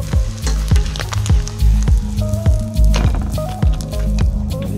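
A whitebait fritter frying in butter in a pan, with a bright sizzle over repeated low thumps and knocks, close and loud.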